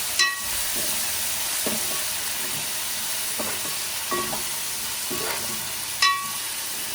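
Tomatoes fry in a pan with a steady broadband sizzle, broken by a few short scraping stirs and a sharper clink near the end, close and moderately loud with no talking.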